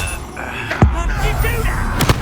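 Confringo blasting spell cast in Hogwarts Legacy, heard as a sharp low thump with a burst of noise near the middle and a second, smaller blast near the end, set against game music and ambience.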